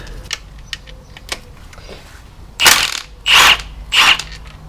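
A power impact gun spins 10mm sump bolts out of a Mini Cooper in three short, loud whirring bursts close together, after a few light metallic clicks and taps.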